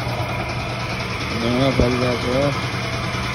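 A broken-down motorbike's engine idles with a low, steady rumble close by, while people talk over it.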